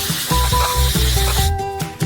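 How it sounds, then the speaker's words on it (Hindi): Liquid nitrogen at about -195 degrees is sprayed straight onto hot caramel, giving a loud continuous hissing spray with sizzling crackle and a low rhythmic mechanical thumping underneath, no voices. "हम नाइट्रोजन को सीधे गर्म कैरमेल पर स्प्रे करेंगे।"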